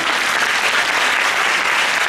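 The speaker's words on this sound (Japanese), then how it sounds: "大きな拍手でお迎えください" Dense, steady applause from a symposium audience fills a hall as keynote speakers are welcomed at a national shelter symposium in Oita, sustained and even throughout without gaps.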